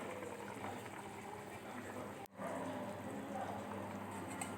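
Taro pieces and tengra fish curry boiling steadily in a pot, a continuous bubbling hiss with a brief dropout midway, no talk over it.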